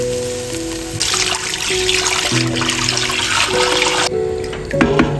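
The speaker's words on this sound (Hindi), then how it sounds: "हम इसमें ऐड करेंगे अपनी यखनी।" Yakhni stock pours steadily into a soup pot for Shazawan soup, a loud, continuous splashing stream lasting about three seconds, with faint tonal background sounds and no talk.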